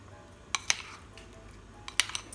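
Tempeh stirred in flour batter in a bowl, heard as a few faint scraping clinks of a utensil against the dish, two near the start and a small cluster near the end, with quiet pauses between.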